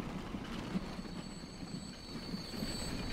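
A steam train rolls into a station in the Transport Fever game, its wheels giving faint rhythmic clicks over a soft rumble and a thin high whine, quiet and steady with no talking.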